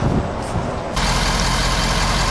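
A 2011 Ford F350 with the 6.7-liter Powerstroke diesel, FX6 package, idles steadily close by, a low continuous engine rumble with a brief shift in tone partway through.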